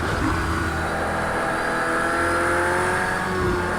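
A McLaren race car in a racing video game accelerates hard down a straight, its engine a loud, steady high-revving drone with rising harmonics, continuous and close throughout.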